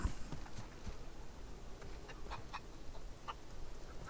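Chicken clucking in the video game The Outer Worlds, a few faint, scattered clucks over a quiet background.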